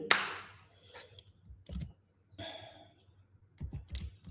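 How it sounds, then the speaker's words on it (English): Keys tapped on a computer keyboard during a Python programming lesson, a few sharp clicks and short bursts of typing separated by quiet gaps, close and fairly soft. "I'm typing print."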